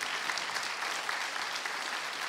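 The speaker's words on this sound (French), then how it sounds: "on l'applaudit bien sûr" Audience applause at a conference session on critical thinking and health, a dense, steady wash of many hands clapping that holds evenly from start to finish.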